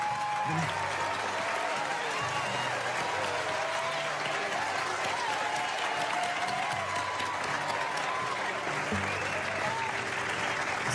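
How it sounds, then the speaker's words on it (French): An audience claps loudly and continuously for Zayn, a dense, sustained round of applause from a crowd, with faint voices and background music underneath. "Un tonnerre d'applaudissements pour Zayn."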